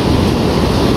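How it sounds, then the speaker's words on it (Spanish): Rough sea waves and surf on the coast make a steady, loud, broad roar with no talking. "Todavía está el mar un poco grande"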